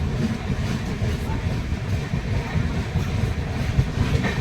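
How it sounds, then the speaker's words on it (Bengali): The Tamralipta Express runs from Kanthi towards Digha, heard from on board as a continuous low rumble and rattle of the moving carriages with some wind buffeting. "কাঁথি থেকে ট্রেন ছেড়ে দিয়েছে দীঘা পৌঁছাতে আর বেশিক্ষণ লাগবে না"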